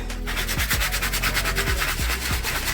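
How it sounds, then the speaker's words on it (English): Sandpaper rubbed back and forth over a shiny coated surface while preparing a junk journal page, a steady close-up scratchy rasp with regular strokes and no talking. "I sanded off some of the shiny stuff that's on there"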